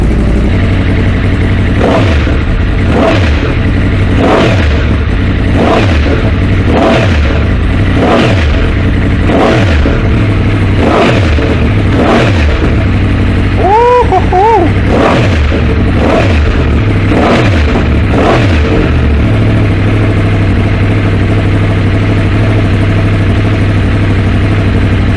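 A 2023 Yamaha MT10 motorcycle fitted with a Leovince decat midpipe warms up, its loud engine idling steadily up close, with a series of regular throttle blips and one higher rev in the middle.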